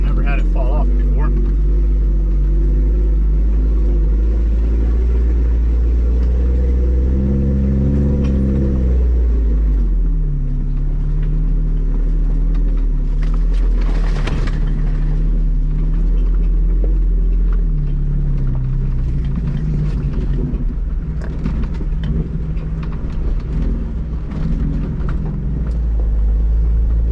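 Off-road vehicle on a rutted mountain trail runs extremely loud with its exhaust fallen off, a heavy low rumble that rises and falls steadily throughout, with someone talking over it at times.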